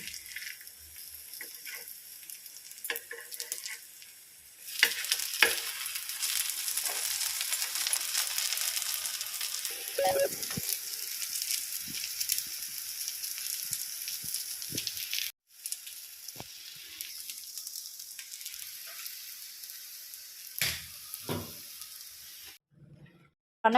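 Eggplant (brinjal) fry being stirred in a pan, a steady broad sizzle with scattered scraping clicks of the spoon, holding at moderate level for most of the stretch with a brief break midway.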